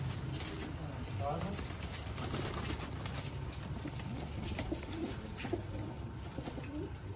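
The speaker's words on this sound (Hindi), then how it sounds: "गोल्डन कबूतर, वड्डे हड्डी जोड़ च, वड्डे साइज च माशाल्लाह माशाल्लाह जी" Golden pigeons coo softly in a few low, repeated calls over a busy background of voices and rustling from a pigeon seller's loft.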